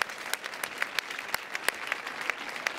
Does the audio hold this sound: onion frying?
no